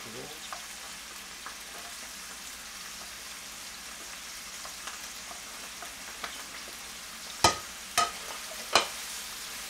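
Onion and carrot sizzle steadily in a pan for kimchi fried rice, a soft continuous frying hiss near the mic, with a few sharp louder pops or utensil clacks toward the end.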